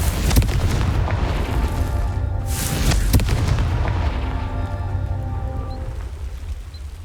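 Two heavy booms from the Confringo fire spell in Hogwarts Legacy blast rocks, the second a few seconds after the first, each followed by a rumbling debris tail that fades out.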